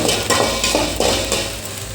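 A steady sizzle of finely chopped onions frying in a hot pan, with a few soft scraping stirs; no voices.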